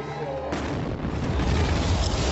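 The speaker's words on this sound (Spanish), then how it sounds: "Ha habido 2 explosiones cerca de la línea de meta hace unos instantes" A loud, deep bomb blast near a marathon finish line erupts after a quieter start, followed by sustained rumbling and crackling noise with a crowd-like roar underneath.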